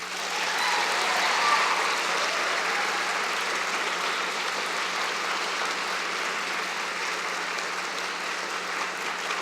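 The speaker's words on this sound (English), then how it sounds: "Graduates, a round of applause," Graduates at a spring convocation applauding, a steady sustained wash of clapping from a large indoor crowd, moderately distant and even throughout with no talk over it.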